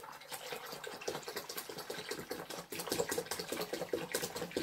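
Beer pours into a big wide-based pan with a continuous splashing, gurgling rush, moderately loud and close, fluctuating steadily over several seconds with no talk.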